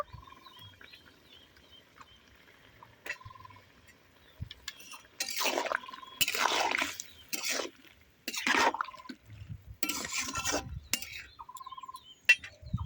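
Water is poured in several splashing bursts into a pan of frying vegetables for Bengali shukto, with quiet clinks and gaps between pours.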